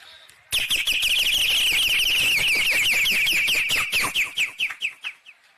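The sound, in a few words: bird calling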